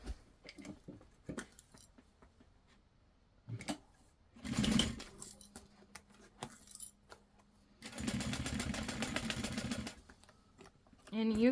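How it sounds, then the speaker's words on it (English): A sewing machine stitches backpack fabric at a quarter-inch seam in short bursts, one brief run and a longer steady whir, separated by clicks, handling noises and quiet gaps, with soft talk in between. "I'm gonna stitch this at 1/4 of an inch"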